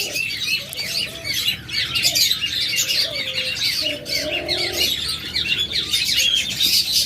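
Crested doves with head crests, kept in a pet-bird seller's aviary, give bursts of coos and calls among constant chirping and squawking from other caged birds, with no talking.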